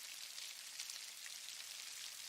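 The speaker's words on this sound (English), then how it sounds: "But that really sounds like crinkling paper to me at first." A steady, dense hiss of fine crackling, like rain or crinkling paper, runs evenly and faintly at a constant level before cutting off abruptly.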